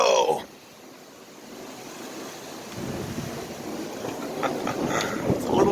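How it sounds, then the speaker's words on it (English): Strong desert wind in Yuma, Arizona gusts and roars across the microphone, rumbling and buffeting, easing briefly then building strong again, with a brief voice at the start. "It is a little windy here in Yuma, Arizona."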